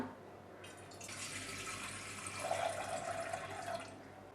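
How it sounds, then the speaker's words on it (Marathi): Water pours steadily into a pot for a few seconds, a soft splashing fill with a faint rising tone, heard close and quiet. "मी इथे पातेलं घेतलेलं आहे तर यामध्ये आपण पाणी घालूया"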